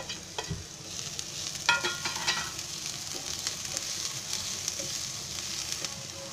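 Onion frying in a pan for masala dosa as garlic and ginger are stirred in, a soft steady sizzle with scraping stir strokes and small clinks, no talk.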